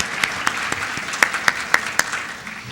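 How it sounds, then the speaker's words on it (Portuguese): A few scattered claps ring out at a hospital compliance talk show as a guest is invited on stage, sparse and uneven sharp hand slaps in a fairly quiet room. "Eu convido Viviane Miranda, por favor, presença no palco com os aplausos de vocês."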